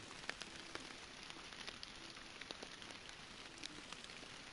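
Rain in the fishing video game Fishing Planet falls as a soft, steady patter with scattered droplet ticks, faint and continuous, with no voices.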